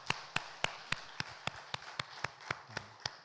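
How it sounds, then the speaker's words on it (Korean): A church congregation claps to celebrate members' birthdays during a Sunday service, a steady even rhythm of claps, fairly quiet and somewhat distant, with no voices. "우리 박수로 축하합시다"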